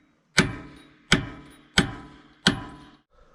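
Four sharp metallic hammer strikes on an excavator track roller ring out at an even, unhurried pace, each blow leaving a short ringing decay.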